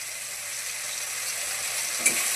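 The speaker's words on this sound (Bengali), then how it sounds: "মশলাটাকে বেশ সুন্দর করে ভেজে নিতে হবে" Ginger, garlic, chilli, salt and turmeric fry in a pan in a steady close sizzle that stays even throughout, with one brief stirring scrape near the end.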